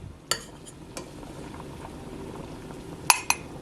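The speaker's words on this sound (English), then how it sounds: "It's been a few minutes and we have come up to a boil." A pot of 16-bean soup with vegetables comes up to a boil, a soft continuous bubbling beneath a few sharp clinks of a utensil against the pot near the start and end.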